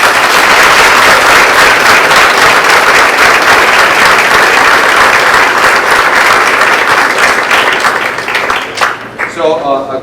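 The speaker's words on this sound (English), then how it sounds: "So can we give a round warm applause to Mary Fash, our Science Olympiad advisor?" Audience at a school board meeting applauding a Science Olympiad advisor, dense loud clapping close by lasting about nine seconds before tapering off with a voice starting to talk.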